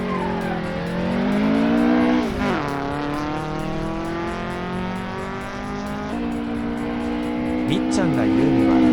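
A Toyota AE86 accelerates away on a mountain pass with a loud, rising engine whine that climbs through several gear changes and hints of tire noise, under a speaking voice.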